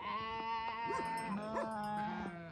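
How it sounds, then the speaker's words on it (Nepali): Sheep at a herders' pen during milking bleat repeatedly and close by, with several wavering cries overlapping one another against a quiet background. "भेडीहरू"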